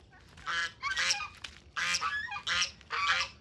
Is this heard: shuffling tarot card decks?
no